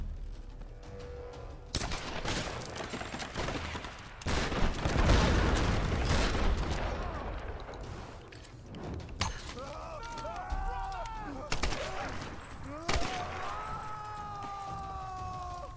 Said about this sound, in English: I'm getting fucking bombarded not only by shotguns